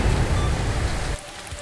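Heavy rain in an anime film set in Tokyo, a dense steady hiss of downpour that drops abruptly to a quieter patter near the end.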